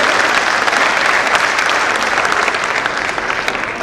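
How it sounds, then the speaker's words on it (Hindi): A seated crowd at a devotional gathering breaks into loud, vigorous clapping, a thick wash of many hands that holds strong throughout and eases slightly at the close. "जोरदार तालियों से आशीर्वाद देगा।"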